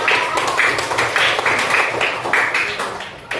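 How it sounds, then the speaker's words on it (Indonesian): Schoolchildren in a third-grade class clap their hands in a loud, rhythmic burst of repeated claps, close and fairly regular, fading toward the end. "Tepuk tangan untuk kalian hebat."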